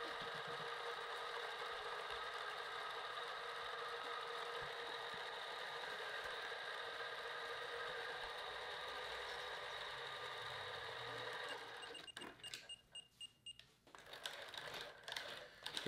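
An RC car ball differential is spun to break it in, giving a steady high mechanical whine that runs unbroken for about twelve seconds, then cuts out into a few sharp clicks and rattles.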